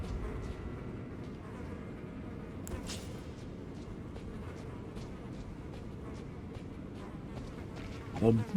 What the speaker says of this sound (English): The buzzing flies.